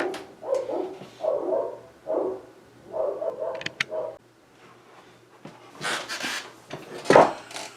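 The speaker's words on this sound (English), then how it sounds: "I hear dogs barking." Several short, muffled barks in rapid bursts, repeating at a moderate distance, followed by a louder sharper bark near the end.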